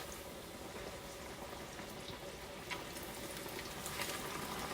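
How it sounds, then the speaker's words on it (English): Chicken frying in hot oil for country fried chicken, a steady faint crackling sizzle with small pops, close and continuous with no talking. "you hear that sizzle"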